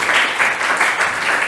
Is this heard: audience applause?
yes